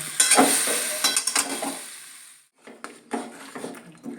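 Jaggery stirred into elephant apple pickle in a pan, a series of close scraping strokes over light sizzling, pausing briefly midway before the stirring resumes.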